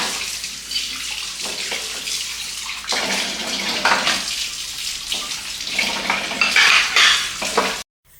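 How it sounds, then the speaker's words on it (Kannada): Dishes and pots being washed under a running kitchen tap, with steady broadband water rush, intermittent clinks and scrubbing, fairly close and loud, no talking, ending abruptly. "ಪಾತ್ರೆಗಳೆಲ್ಲ ಇವಾಗಲೇ ತೊಳೆದಿಟ್ಕೊಬಿಡ್ತಾ ಇದ್ದೀನಿ."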